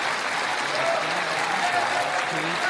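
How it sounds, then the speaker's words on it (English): Steady, dense applause from a large crowd, continuous clapping at an even level throughout with no pauses. "I have to play the applause because it's contextually relevant."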